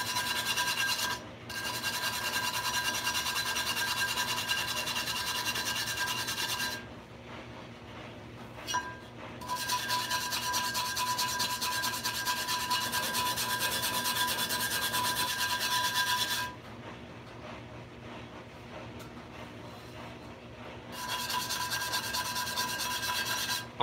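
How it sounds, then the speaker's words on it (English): Steady scrubbing of a cast iron Dutch oven being seasoned, in three long abrasive rubbing bouts separated by short pauses, close and fairly loud with no talking. "I'm just kind of scrubbing all over."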